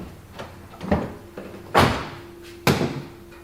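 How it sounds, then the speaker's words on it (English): The rear door of a VW T5/T6 campervan is worked, with a few close clunks and a louder latch thud, then another firm door knock, alone with no voices. "First job is to simply open your door."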